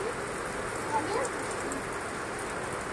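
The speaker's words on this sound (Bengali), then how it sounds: "কি জোরে বৃষ্টি হচ্ছে" Heavy rain pours in a steady, dense hiss, continuous and close throughout with no break.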